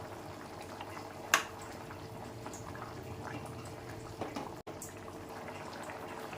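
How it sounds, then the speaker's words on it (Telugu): Taro and tamarind stew with curry leaves simmers in a covered pot, giving a faint, steady bubbling with a couple of soft clicks and no voices. "పులుసు మరగనివ్వాలి."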